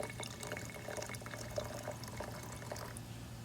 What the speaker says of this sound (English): I'm going to add about another 100 milliliters of distilled water.